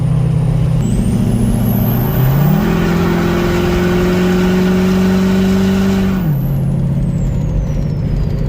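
A Ford 6.0 Powerstroke diesel truck with a custom hood stack exhaust drives at highway speed, its loud steady engine drone rising as it accelerates, holding high, then dropping back as it settles to a cruise.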